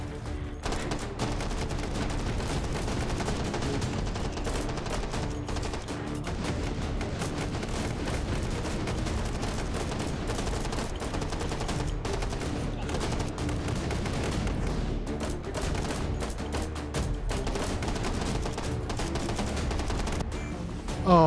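Sustained gunfire in the VR shooter Hot Dogs, Horseshoes & Hand Grenades, Take & Hold mode with akimbo USP pistols: dense, continuous volleys of shots with no pause, loud and close throughout.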